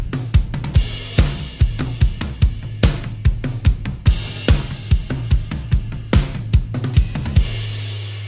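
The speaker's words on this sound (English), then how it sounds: "it's just toms and snare and kick" Drum groove played on toms, snare and kick only, punchy repeating hits in a steady driving rhythm with booming toms and sharp snare cracks, close and loud with no voice over it.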